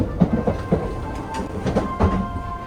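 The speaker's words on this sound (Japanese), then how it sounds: "昔ながらの食堂車のガタンゴトンという乗り心地を感じながら" Luxury sleeper train Train Suite Shiki-shima running at around 85 km/h over jointed rail, wheels clattering over rail joints in a few irregular knocks with a steady low rumble; no talking.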